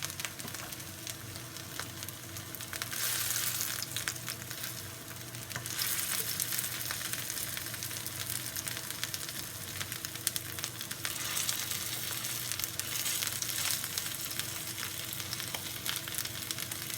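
Pieces of vegan mushroom longganisa fry in a pan with a continuous soft sizzle and crackle, occasional stirring scrapes, moderately quiet and close, swelling slightly at times, with no talking.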